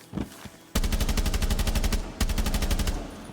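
Rapid automatic fire from a new gun in the video game Rainbow Six Siege, two loud sustained bursts of evenly spaced shots, the second starting after a brief pause, with no talking.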